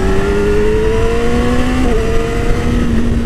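2017 Yamaha R6 sport bike with a quick shifter accelerating hard, a loud, close, high-pitched engine note rising steadily with a sudden shift midway before it climbs again.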